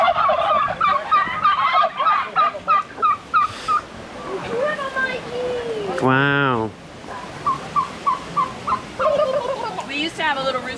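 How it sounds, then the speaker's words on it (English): Several big turkeys gobble in repeated rippling bursts across a Yucatán family's yard, close and loud, with one long warbling call standing out midway and people talking and exclaiming between the calls. "Look at these huge, beautiful turkeys."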